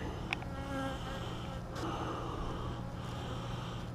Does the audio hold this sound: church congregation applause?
no